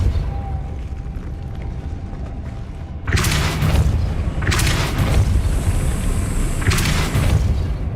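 The Depulso spell in Hogwarts Legacy is cast again and again, producing three sharp booming bursts with crackling tails after a quiet rumbling stretch, each blast loud and separated by short pauses.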